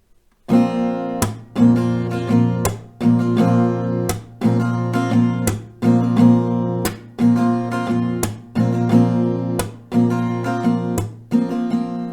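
An acoustic guitar strummed in a steady, repeating rhythm at standard tempo, with sharp percussive slaps between the strums. It plays the pattern alone and close, with no talking.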